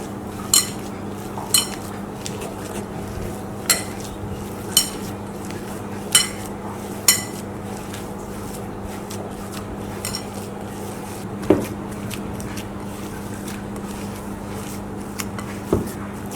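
Spiced potato filling for aloo paratha, seasoned with cumin powder and salt, being mixed in a bowl, with sharp utensil clinks and knocks at irregular intervals over a steady low background hum.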